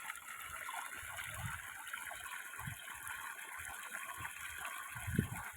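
Irrigation water gushes steadily through a channel in a wheat field, a continuous close rushing flow with a few low splashy surges and no voices.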